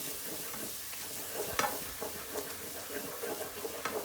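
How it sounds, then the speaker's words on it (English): Spices fry in oil in a pan for Indian lemon chicken and are mixed through, a continuous close sizzle with irregular scraping and clinking stir strokes, with no voices. "As soon as you add the spice and then you give it a mix"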